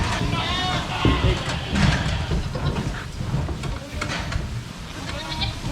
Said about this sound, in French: Il y a 250 chèvres ici les amis.